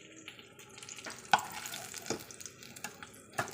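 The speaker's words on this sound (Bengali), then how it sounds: "এবার বাকি মাছগুলোকেও ভেজে নেব" Fish frying in a pan gives a soft, quiet sizzle, broken by scattered spattering pops and a few sharp clicks of a utensil against the pan.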